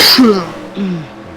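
A single close sneeze bursts out sharply at the start, then tails off with a brief vocal trace, heard at a dirt oval racing event.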